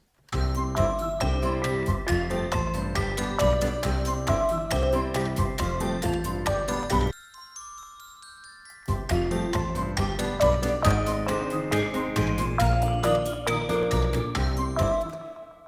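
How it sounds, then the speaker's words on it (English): Bright, bell-like glockenspiel notes sparkle over a full whimsical music arrangement, dropping briefly to a sparse sustained tone midway before the full texture returns. "suggested some glockenspiel to be added"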